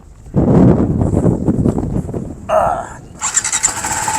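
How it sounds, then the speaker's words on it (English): A TVS Apache RR 310 motorcycle engine cranks and fires up, rumbling steadily at close range, followed by a brief squeal and a louder high-pitched rising rev near the end. "Let's fire it up. Let's hear how it sounds"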